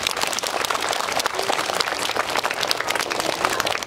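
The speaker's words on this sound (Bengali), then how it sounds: "তার জন্য একটা হাততালি।" Audience applause at a school cultural event, a dense steady wash of clapping from a crowd that holds for the full stretch at an even, fairly loud level with no speech over it.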